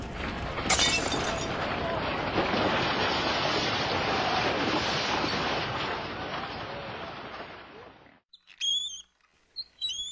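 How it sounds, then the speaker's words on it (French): A long, roaring rumble of crumbling debris and shattering masonry as building facades collapse pours on steadily for several seconds, then cuts off into brief high chirps. "Les façades s'écroulent."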